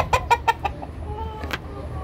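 Fayoumi hens cluck in a quick run of four or five short, close calls, then a softer cluck trails off over low farmyard background noise.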